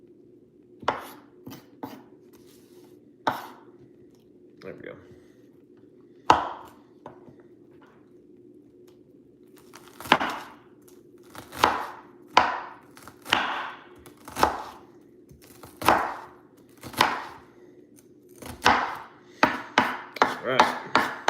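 Knife chopping onion on a cutting board, a series of sharp, close knocks, sparse and irregular at first, then quickening into a rapid run of chops; a brief spoken remark at the start.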